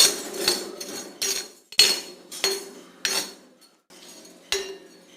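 A spoon scrapes and clinks against a hot iron pan while blackgram and onion are stirred, giving a series of sharp metallic knocks and scrapes in an uneven rhythm, close and fairly loud, with no voices.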